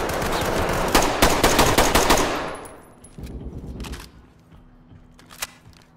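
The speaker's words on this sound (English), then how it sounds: "they're shooting everywhere!" Rapid bursts of automatic gunfire in the tactical shooter Ready or Not, dense and loud for about two seconds, then a shorter volley and a few scattered shots fading out.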